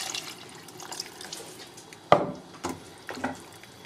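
Water poured into a pot of cabbage soup with pork ribs, a soft trickling splash with a few louder pours and spills near the end, no talking.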